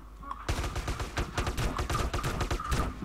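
Rapid sniper and gun fire in the multiplayer game MTA, with sharp shots cracking in a dense, fast volley that starts abruptly and keeps going, loud and close.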